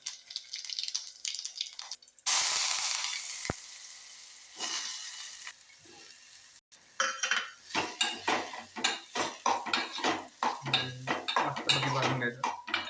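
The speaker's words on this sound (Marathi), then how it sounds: "तर हे मस्तपैकी आपण भाजून घेत आहे." Cumin seeds roasting in oil in a cooking pot, a quick loud sizzle followed by clinking and scraping of a utensil against the pot in a steady, rhythmic stirring pattern.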